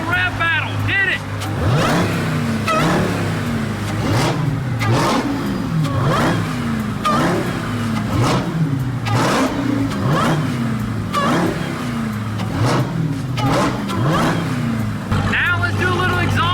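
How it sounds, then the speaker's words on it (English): A muscle car engine revs over and over in a steady rhythm, each throttle blip rising and falling, loud and close, with voices talking in the background. "Let's do a little rev battle."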